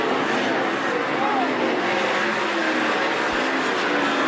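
410 sprint cars racing heat laps at Attica Raceway Park, a continuous loud roar of engines from the dirt oval under crowd noise and announcer talk.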